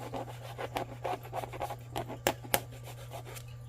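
Glitter is scraped off a decorative craft-store mushroom in short, quiet rubbing and rasping strokes that repeat at an uneven pace over a low steady hum, with two sharper scratches near the end.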